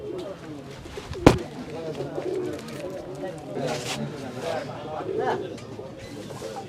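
An Australian dove coos softly at a village livestock market in Sirajganj, with low calls coming under steady nearby conversation and crowd noise, plus one sharp knock.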